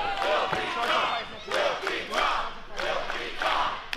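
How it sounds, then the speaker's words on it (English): A pro wrestling crowd roars in swelling waves of cheering and shouts, rising and falling several times in a busy indoor arena, with a commentator's voice running faintly underneath. "Crowd coming alive for Filthy Tom Lawler."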